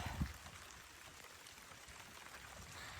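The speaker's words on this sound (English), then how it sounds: "Now it is raining." Rain falls steadily outdoors in the African countryside, a soft, even hiss of drops on surfaces with one brief louder knock near the start and no voices.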